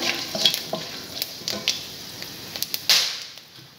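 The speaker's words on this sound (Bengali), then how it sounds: "একটু গোটা জিরে দিচ্ছি, একটু গোটা গরম মশলা দিলাম।" Whole cumin and whole garam masala crackle in hot oil for cabbage ghanta, an even close sizzle broken by sharp pops and a couple of louder stirring clinks, no talking.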